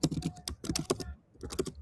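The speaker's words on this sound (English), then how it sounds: "I can hear your keyboard also." Quick, uneven bursts of typing on a computer keyboard come through a live call, close and fairly clear, with short pauses between runs of keystrokes.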